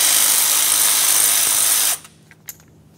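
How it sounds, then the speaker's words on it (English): A power tool whirs steadily at close range while loosening an 8mm hose clamp on a radiator hose of a 1994-1997 Honda Accord 2.2L four-cylinder, then cuts off abruptly, leaving a few faint clicks. "We'll loosen our 8mm headed clamp just enough that we can slide the hose out of the way"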